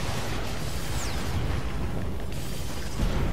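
A helicopter shot down in the game Infamous: Second Son explodes in a dense, sustained roar of blast and debris with a brief whoosh, loud and unbroken throughout with no speech.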